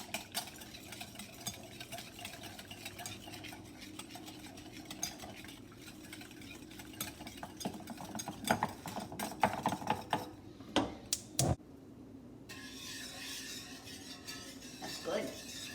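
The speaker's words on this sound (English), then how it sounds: "Just beat those egg yolks in." Egg yolks being beaten into a Lobster Newburg sauce in a bowl, quick irregular clinking and scraping strokes that build in the middle then stop, with a soft kitchen hum underneath.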